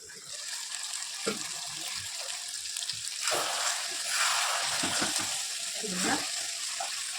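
Meat braising in a pan gives a steady, loud sizzling hiss, with a few scraping stirs and soft bubbling bursts rising over it throughout.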